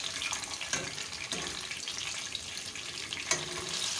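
Chicken malai boti sizzles in a pan on low heat, a continuous close crackle broken by several sharp scraping bursts as the pieces are flipped.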